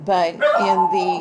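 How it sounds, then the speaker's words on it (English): A pet dog barks and yips repeatedly in the background while a lecturer keeps talking over it, the short bright barks fairly close and moderately loud. "my dog barks and I hear that"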